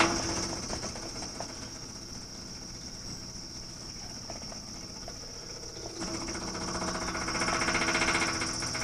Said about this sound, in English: Got the fuel pump hooked up.